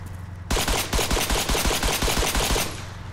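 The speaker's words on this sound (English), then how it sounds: "Do you really have to shoot out your tires?" Rapid automatic gunfire shooting out vehicle tires in the military shooter ArmA 3, a loud sustained burst of evenly spaced shots lasting over two seconds before stopping abruptly, no talking.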